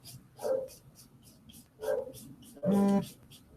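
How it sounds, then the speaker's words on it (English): A dog gives three spaced, loud barks, the last one longer and more drawn out, over a low background hum. "All day long, this dog is barking."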